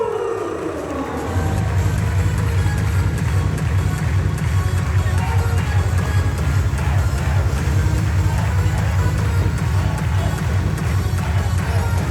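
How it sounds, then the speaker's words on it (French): An arena crowd at a French Pro A championship final breaks into loud, sustained applause and cheering, a dense roar that swells after the first second and holds steady throughout. "vous allez pouvoir l'applaudir très fort"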